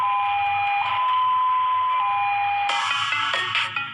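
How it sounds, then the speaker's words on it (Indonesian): Jakarta emergency ambulance siren sounding its 'halo' tone: a steady electronic tone that continues unbroken, then turns louder and denser near the end, with no talk. "Kita seragam ambulans gawat darurat DKI Jakarta itu pakai bunyi halo."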